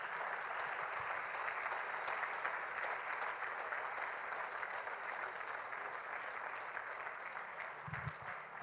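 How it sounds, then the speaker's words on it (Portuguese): A church congregation applauds steadily and densely for several seconds during a service, a sustained, even wash of many hands clapping at moderate distance with no talk over it. "Você pode aplaudir Jesus?"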